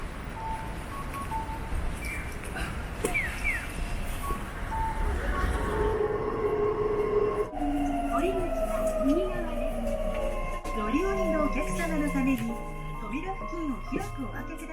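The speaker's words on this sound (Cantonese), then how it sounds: "有冇人咧都係好中意聽日本交通燈過馬路嘅聲嘅？" At a Japanese pedestrian crossing in Fukuoka, an electronic signal gives repeated rising-and-falling bird-like chirps at a steady rhythm amid street noise, as someone talks over it.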